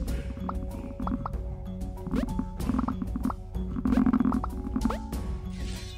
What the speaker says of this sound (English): Jojo's farting.